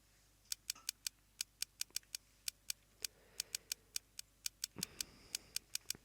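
Keyboard typing sound effect from the Steins;Gate video game: crisp, quiet clicks in an irregular run of about two dozen taps over a low background hum.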